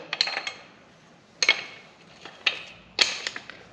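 A Tusk 27 mm spoon wrench works on the axle nut of a 2023 KLR 650 motorcycle, giving sharp metallic clinks and clacks in a few separated clusters, close and fairly crisp against quiet.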